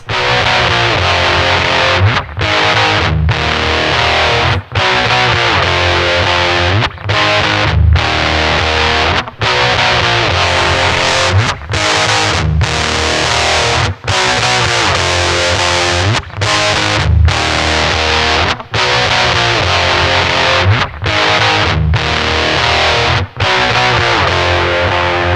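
An electric guitar with fuzz plays through a Digitech CabDryVR cab simulator, thick and saturated, with loud sustained chords broken by brief rhythmic gaps throughout.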